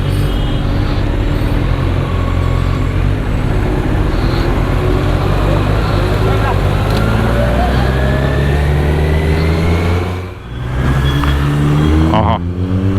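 A Kawasaki Z-series sport motorcycle (Z900 or Z800) on a night highway ride revs and accelerates in rising sweeps under steady, loud wind and road rush, then eases briefly before climbing again.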